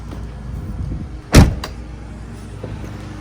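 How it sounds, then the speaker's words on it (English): Hood release lever pulled inside a 2007-2010 BMW E63/E64 M6, a single short clunk from the driver's side under low background noise. "Let's go ahead and pop the hood."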